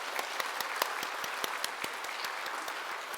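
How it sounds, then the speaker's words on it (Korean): Applause during a Sunday church service for graduating students, with a soft bed of many hands under a few nearby claps that land in a fairly regular beat, moderately quiet and steady. "새로운 현장으로 출발하는 수료생들을 축복하는 마음으로 박수해 주시기 바랍니다"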